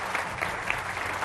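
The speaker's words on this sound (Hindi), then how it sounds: "तालियों के साथ स्वागत कीजिए।" An audience at a televised political debate claps to welcome panelists, a brief, steady burst of crowd applause at moderate loudness.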